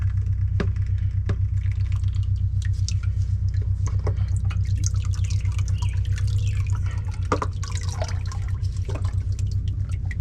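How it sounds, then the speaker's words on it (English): Ford E40D transmission fluid dripping into a drain pan beneath the vehicle, sharp irregular drips over a loud steady low rumble. "I'm going to put the pan up there just to catch any of this fluid that comes out."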